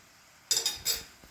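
A teaspoon scrapes and clinks against a bowl of shrimp mixture in two or three quick, close metallic strokes, brief and crisp against a quiet background.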